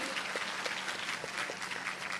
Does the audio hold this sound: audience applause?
yes